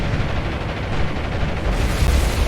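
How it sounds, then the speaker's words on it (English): Bombs burst on warships in War On The Sea as a dense, continuous roar of rumbling explosions and crackling blasts, loud and close, with no speech. "Bombs out."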